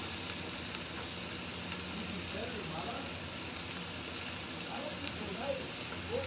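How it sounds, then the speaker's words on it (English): Holy Trinity vegetables (onion, celery and bell pepper) sizzle steadily in a hot pan for an étouffée, a constant close crackling hiss with faint voices in the background. "You hear that sizzling?"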